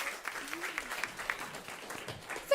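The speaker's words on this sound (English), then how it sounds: "Please give them all a round of applause." Scattered applause from an audience at an event honoring chefs, light clapping with some crowd murmur and voices underneath, moderately distant.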